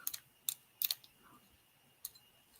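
A lock being picked gives off a handful of sharp, close clicks and clacks in short irregular bursts, with quiet gaps in between and no talking.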